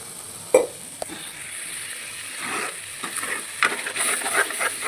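Masala gravy frying and being stirred in a kadhai, a soft steady sizzle with a sharp scrape of the spoon early on and busier stirring clatter building toward the end, heard close and alone.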